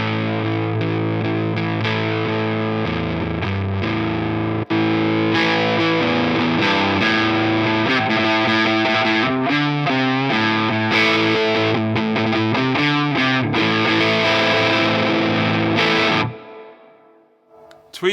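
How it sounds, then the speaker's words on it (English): Electric guitar through modeled Fender blackface and tweed amps at about three-quarter crank, playing loud, continuous distorted chords and riffs for over fifteen seconds before a sudden stop and near silence. "If I switch between the two amps, you get so much more bass out of the blackface."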